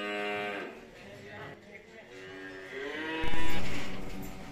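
Cattle low repeatedly on a village farm, several long drawn-out moos overlapping one another at close range, with a louder call rising near the end.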